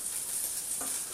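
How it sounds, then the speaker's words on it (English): Bacon sizzles in a hot frying pan as the strips are turned over, a close, steady crackling hiss with a brief clatter of movement near the end. "Now what I'm going to quickly turn over the bacon"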